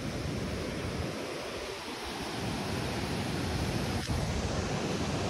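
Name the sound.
high sea waves at Mandarmani beach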